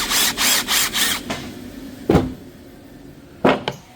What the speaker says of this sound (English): I'm gonna get a little pilot hole